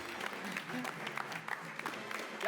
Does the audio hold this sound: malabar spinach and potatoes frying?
no